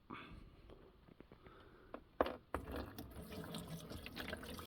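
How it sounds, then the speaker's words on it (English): Tap water runs into a newly installed sink in a camper van, a steady splashing stream that grows fuller and louder after a couple of seconds, heard close up with no talking. "Now to run some water through it and see in how many places it leaks."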